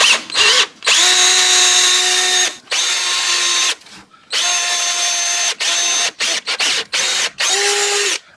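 A power drill bores a hole in metal while a fan controller is fitted to a 1980 Chevy Caprice. The motor whines loudly in repeated bursts, stopping and restarting many times with short silent gaps.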